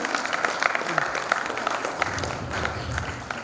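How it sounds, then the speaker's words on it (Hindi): Audience applause at a Gargi Foundation event in New Delhi, a continuous rattle of clapping hands heard alongside a nearby voice and low rumbling movement. "तालियों के साथ"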